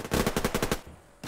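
Full-auto bursts from an AKM 7.62x39 rifle in the shooter game Survarium, a rapid string of about eight loud close shots over roughly three quarters of a second, then a brief pause and one more shot.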